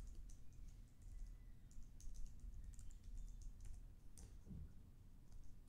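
Someone types on a computer keyboard while working in a terminal, a quiet run of uneven key clicks over a low background hum.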